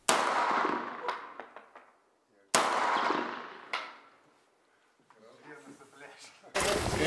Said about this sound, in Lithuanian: Šiuo daikčiuku per sekundę galima iššauti net 10 šovinių